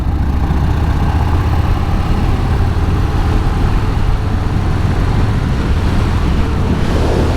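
A car rolling along gravel back roads, a steady low engine drone with dense road and tire rumble heard from inside, constant and fairly loud with no talking.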